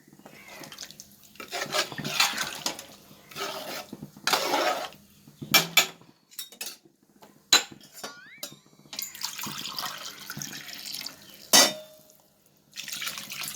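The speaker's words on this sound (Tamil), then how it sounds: "சீரக சம்பா அரிசிக்கு 8 கிளாஸ் தண்ணி ஊற்றிருக்கேன்" Water is poured into a pot of cumin samba rice for biryani, the splashing and trickling heard in irregular bursts alongside clinks of metal vessels, fairly close and with no talk over it.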